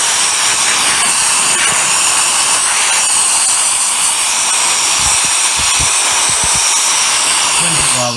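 A GT Power Jet Fan compact blower roars steadily close-up with a dense, continuous high-pitched jet whoosh while blowing dust off an RC car, holding nearly constant loudness throughout.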